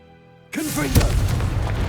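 Confringo blasting spell in Hogwarts Legacy, a sudden loud boom that bursts in after a quiet moment, followed by a rumbling, crackling tail; a voice is briefly heard underneath.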